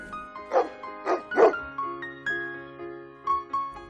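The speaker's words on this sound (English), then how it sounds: "Usually, dogs are kept in kennels." A dog barking in a series of short, close barks and yips, about half a dozen spaced through the clip over a steady background tone.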